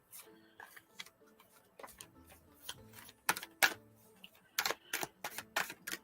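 Tarot cards are shuffled in soft, irregular bursts of crisp flicks and riffles, quiet and close, with brief pauses between the sharper riffle passages.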